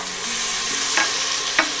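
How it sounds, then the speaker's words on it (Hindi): Ginger-garlic paste being stirred in a frying pan while making stuffed bitter gourd with minced meat: a steady sizzle runs throughout, with two brief scraping strokes of the spoon near the end. "अदरक लहसुन को थोड़ा सा मिक्स करना है, थोड़ा सा बस ज़रा सा इसको चलाना है"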